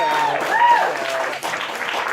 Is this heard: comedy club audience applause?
yes